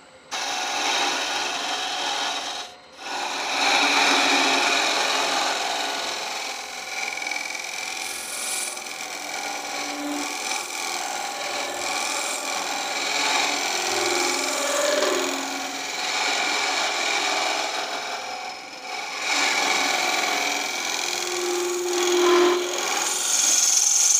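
A carbide cutter scraping a spinning wood blank on a lathe, a steady loud rasping drone that runs almost continuously, with one brief dip early on.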